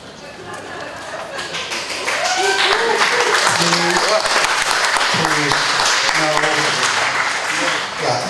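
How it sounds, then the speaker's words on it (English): Applause and clapping from the audience at a county council public meeting, building after the first couple of seconds and continuing steadily, mixed with some voices and tonal sounds. "Please, no applause."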